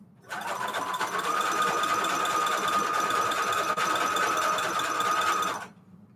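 Sewing machine running a zigzag stitch over lace, set to 3 length and 6 width: one continuous close mechanical whir with a rapid rattling pulse, lasting about five seconds before stopping, no talking.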